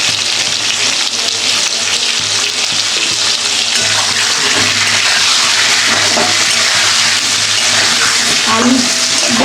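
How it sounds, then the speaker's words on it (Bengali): Potatoes fry in plenty of oil seasoned with salt and turmeric for a chicken biryani, giving a steady, loud, close sizzle that holds without a break throughout. "এবার আলুগুলো ভেজে নেব।"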